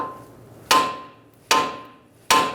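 Three sharp metallic hammer whacks strike a Ford Taurus front outer tie rod end during replacement, evenly spaced, loud and close, each ringing briefly before fading.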